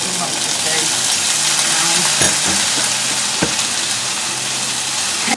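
Onion paste for prawn malaikari spluttering in hot oil: a loud, steady sizzle with stirring, broken by a couple of sharp pops near the middle.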